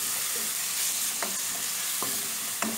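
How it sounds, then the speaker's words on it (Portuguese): Chopped onion fries to golden in hot oil, a loud, continuous close sizzle broken by three sharp spoon scrapes against the pan. "Então agora a gente coloca a cebola também para dourar."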